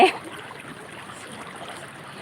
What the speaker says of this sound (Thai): สภาพหมู่บ้านน้ำไหล นี่ แรงแรงแค่ไหน